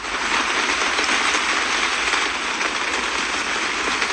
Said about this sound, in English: as more rain fell in sheets and puddles spread across the city